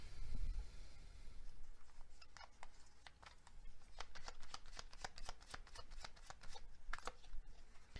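Tarot cards are shuffled at a reading table in a quiet room, a soft, fairly close patter of repeated riffling slaps and flicks with a low thump at the start.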